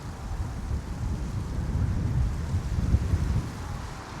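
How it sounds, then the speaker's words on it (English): Steady wind blows around a parked campervan in a car park by the seaside at Great Yarmouth on a winter night, a continuous low rumbling buffet with no speech. "Well, it's getting a little windy,"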